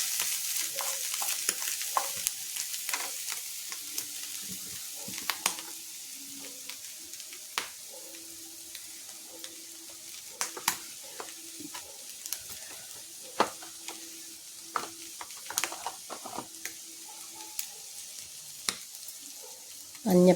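Sliced onion and ginger fry in oil in a pan with a steady sizzle, broken up by repeated clinks and scrapes of a spoon stirring close by, and a voice speaks now and then over the cooking.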